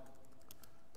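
Quiet, quick keystrokes on a computer keyboard as code is typed, a brief run of soft clicks heard alone.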